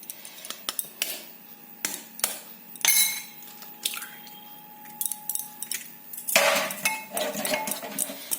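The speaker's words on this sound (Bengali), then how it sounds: "দিয়ে এটা আমি একটা ডিম দিয়ে ভালো করে ফেটিয়ে একটা ব্যাটার আমি তৈরি করে নিচ্ছি।" Egg being beaten into a batter in a bowl for chilli paneer, with rapid close clinks and scrapes of utensil against the bowl in uneven bursts.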